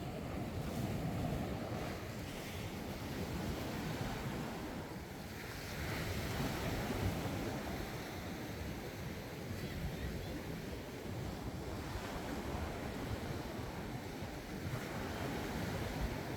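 Sea waves wash steadily against a fiberglass outrigger boat while wind roars across the microphone in a north wind, loud and continuous, with swell rising and falling throughout and no clear talk.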